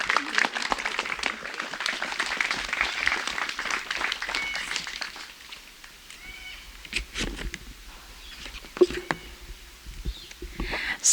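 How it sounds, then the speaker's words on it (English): Wedding guests at an estate ceremony applaud, dense clapping in the first half that thins out into scattered claps and quiet murmurs, with a few brief sharp sounds near the end. "Give him a round of applause."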